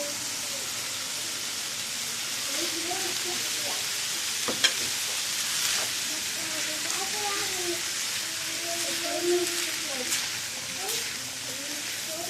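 Chicken and red, yellow and green bell peppers frying in a pan, a steady close sizzle with occasional stirring scrapes and clinks and a voice talking over it at times.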